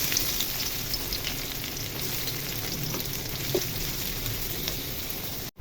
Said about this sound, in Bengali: পেঁয়াজ কুচি দিয়ে ভেজে নিব